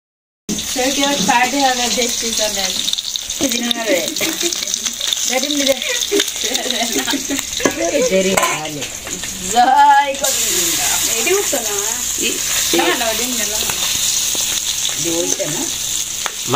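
Fish frying in oil with raw egg, a steady close sizzle that runs throughout while people talk over it.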